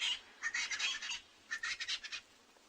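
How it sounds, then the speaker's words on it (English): A crested francolin calls at a waterhole at sunrise, two faint bursts of rapid, harsh, rattling cackles separated by a brief pause, heard from some distance with no talking. "We can hear the crested francolin calling."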